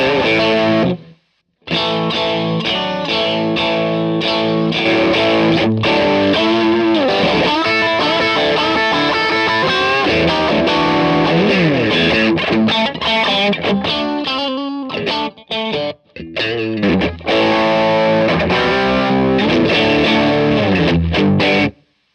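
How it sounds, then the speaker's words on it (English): Electric guitar played through a Tube Screamer TS9 reissue stacked with a Bluesbreaker overdrive, giving loud, crunchy, sustained chords and riffs. Playing is continuous, with two brief pauses. "I would have the Tube Screamer in whilst I had the Bluesbreaker on."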